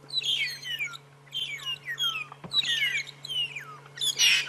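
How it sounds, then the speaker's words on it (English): Burchell's starlings call on a morning safari, four bursts of squeaky, descending whistles and chatter at moderate distance, with a steady low hum underneath. "Oh, they're being attacked by Birchall starlings."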